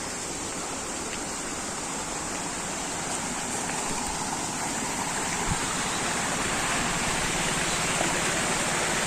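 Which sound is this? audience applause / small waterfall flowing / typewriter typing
small waterfall flowing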